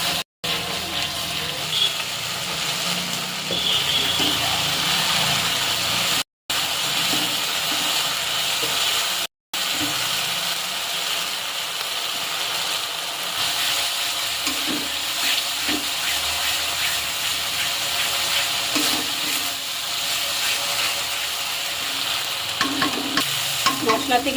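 Sour curd and cashew paste go into masala frying in oil that has separated, then get stirred. The result is a continuous loud sizzle with wet scraping and stirring throughout, broken by two brief dropouts, with no one talking.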